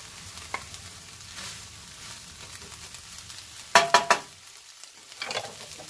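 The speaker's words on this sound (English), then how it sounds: "I am going to go ahead and add the onions and the pepper back in" Onions and peppers frying in a pan give a low, quiet sizzle, broken by a few sharp clatters and scrapes of stirring near the end, heard alone.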